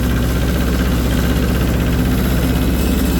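A John Deere tractor engine idles close by, a loud, steady low throb with an even mechanical pulse and constant vibration, no voices over it.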